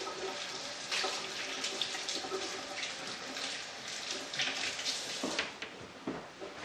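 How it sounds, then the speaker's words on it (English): Tap water runs steadily from a kitchen faucet during handwashing, a continuous close splashing hiss into the sink for the whole stretch with small shifts in flow. "Use the back of your wrist to turn on the faucet."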